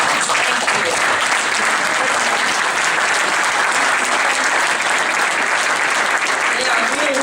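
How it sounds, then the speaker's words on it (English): Warm applause for standing NED board members at an event supporting Iranian dissidents, a loud, continuous roar of clapping from a large audience that holds steady for over seven seconds. "stand up and let us give you a warm applause"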